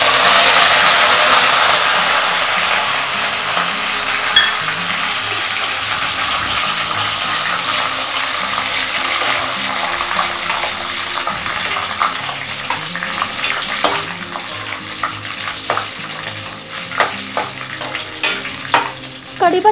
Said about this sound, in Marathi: कढीपत्ता जो आहे तो पण आपल्याला छान क्रिस्पी होईपर्यंत असा तळून घ्यायचा आहे